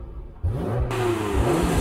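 An Italian sports car, engine warm, revs hard at launch from first gear with the handbrake released, a loud close mid-pitched roar climbing and surging on its own without talk.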